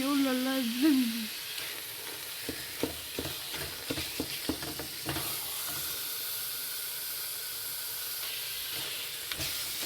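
Chopped carrots for gajar ka halwa sizzle steadily in oil, with a constant frying hiss and repeated scraping, clattering stirring strokes up close; a brief hum appears at the start.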